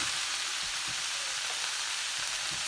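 Instant noodles stir-fried with holy basil in a pan, a steady bright sizzle with faint scraping stirs throughout, close and alone.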